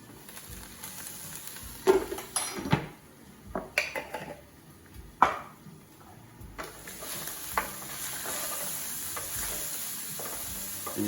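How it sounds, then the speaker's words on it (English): Turmeric cooks in a pan with a cauliflower and coconut sauce base: a soft close sizzle is broken by spoon stirs and clattering knocks against the pan, then settles into steady frying. "I just cook the turmeric out for a moment"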